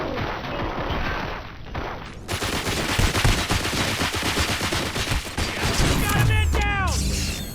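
Rapid gunfire in RoboCop: Rogue City, sustained bursts of close automatic shots with clattering impacts and crashes, followed by a shrill whine at the end.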